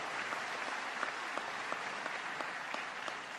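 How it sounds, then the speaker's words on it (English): Crowd applause in a hall for Senate and City Council colleagues at a political event announcing free state college tuition, steady distant clapping with scattered sharper individual claps, fairly faint throughout. "let's give them a round of applause."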